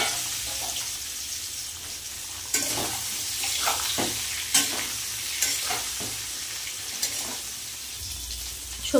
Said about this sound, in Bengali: এবার দিয়ে দেবো ফুলকপি, আলু আর সোয়াবিন একসাথে ভেজে নেব